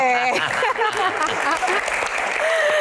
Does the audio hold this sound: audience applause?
yes